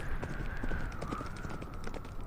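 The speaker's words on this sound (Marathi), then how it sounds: "टांगा आता अधिकच दाट जंगलात शिरला होता." Hooves of a horse pulling a tanga clip-clop through dense forest, irregular rhythmic knocks over a constant rumbling background, moderately close and unaccompanied by talk.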